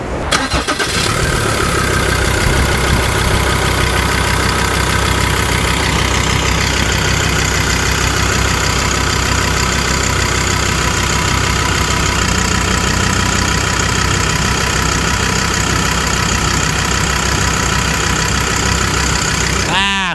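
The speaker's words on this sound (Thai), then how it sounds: "เดี๋ยวฟังเสียงเครื่องกัน" Diesel engine of a 2014 Ford Ranger Wildtrak 3.2 pickup with about 90,000 km, running steadily at idle, loud and close, a continuous even drone with no speech over it.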